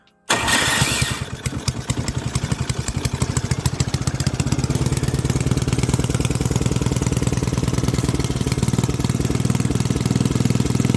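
Old F.W. and Associates Mini Cars go-kart engine with a leaking primer and worn clutch, idling at a high setting after starting, a loud close steady sputtering putter that runs without a break.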